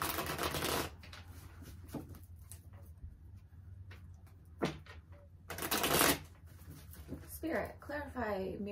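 Tarot cards shuffled by hand in quick riffling bursts, loudest near the start and again around the sixth second, with quieter handling between and a voice talking in the background.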